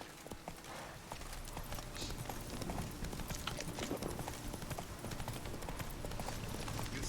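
Horse hooves gallop in a rapid, steady clip-clop rhythm in a video game, faint and continuous, with faint game noise in the background.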